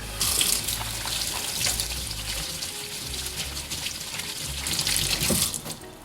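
Tap water runs steadily into a sink while hands are rinsed of lavender-scented Mrs. Meyer's hand soap, a close, continuous splashing with no talk.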